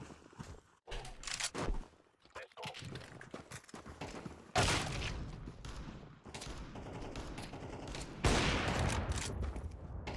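Bursts of gunfire from a banned weapon in a video game: rapid volleys and sharp repeated shots, loud and close, coming in clusters with short gaps between them.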